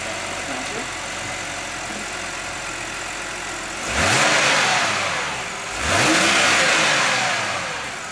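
A car starting and idling after a BMS Power Box (PBX) tuning module install, with two loud surges as the engine revs up and settles back between them, close by and without talk.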